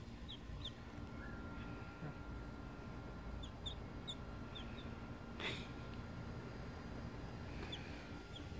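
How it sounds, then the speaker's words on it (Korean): Faint, high cheeps from a chick scattered through a quiet room, a few short chirps every second or two over low background hum. "병아리가 니더 좋아한다, 야, 복실아."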